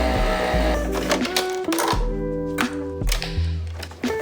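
A home espresso machine pulling a double shot of decaf, with a series of thunks, clicks and mechanical pulses in an uneven rhythm, close by and moderately loud with no talk.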